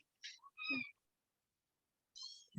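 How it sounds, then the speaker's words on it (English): High, piercing kitten screams, one short cry, a longer wailing one, then another starting near the end, separated by silence and fairly close. "Screaming kittens."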